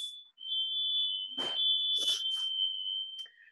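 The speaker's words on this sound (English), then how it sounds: "the smoke alarm's going off in my house" A house smoke alarm sounds a continuous high-pitched tone, loud and steady, with a few brief knocks and rustles over it near the middle before it cuts off.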